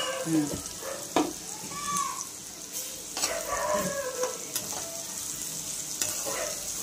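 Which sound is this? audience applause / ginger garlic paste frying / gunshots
ginger garlic paste frying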